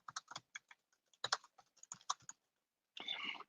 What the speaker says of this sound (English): I can't talk and type.